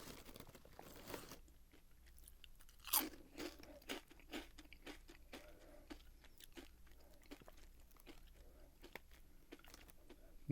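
Someone bites into and chews crisp, spicy snack pieces up close, giving a sharp initial crunch followed by a run of irregular crackly chews with quiet pauses between them.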